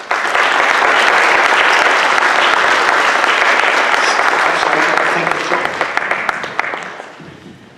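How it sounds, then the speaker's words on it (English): Audience at a Democratic club opioid forum in Livonia breaks into sustained applause, a dense wash of clapping that holds steady for several seconds and then thins out toward the end. "by an applause, we want to thank you for that."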